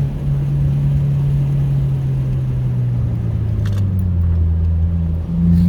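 A 2022 Subaru WRX engine pulling steadily in third gear, with a loud, even drone inside the cabin whose pitch eases down and then climbs again, under road rumble, alone without voices.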